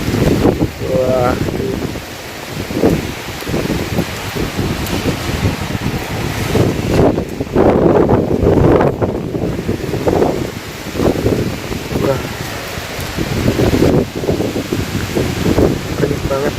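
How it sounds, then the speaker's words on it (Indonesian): Strong swirling wind at a factory gusts and roars across the microphone with heavy buffeting and rumbling surges throughout, while a person talks over it. "kenceng banget ya, anginnya kenceng banget ini."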